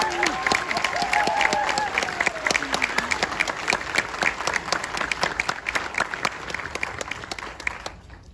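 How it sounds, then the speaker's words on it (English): Lively applause from a festival Q&A audience at a film screening, a dense, sustained clatter of many hands for about eight seconds, with faint voices and a whoop or two mixed in before it cuts off abruptly. "Another round of applause for everyone up here."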